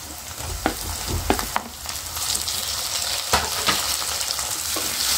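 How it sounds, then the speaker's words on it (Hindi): Tomatoes tossed into onions frying in a pan for dal palak, a dense close sizzle broken by several sharp clacks and stirring scrapes, steady and loud without speech. "प्याज हमारे अच्छे से भुन चुके हैं, अभी इसी स्टेज पे हम इसमें टमाटर डालेंगे।"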